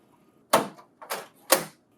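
Door B of a Lexmark XC4342, XC4352, CX730 or CX735 laser printer is pushed shut, giving three short, close plastic clunks about half a second apart in a quiet room.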